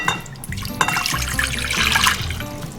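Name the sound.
warm water poured into a mixing bowl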